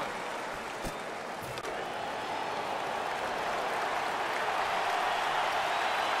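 A stadium crowd in the Madden NFL 15 football game, Eagles at Dallas Cowboys, roars in a steady, dense wash of cheering and applause that builds slightly and holds throughout.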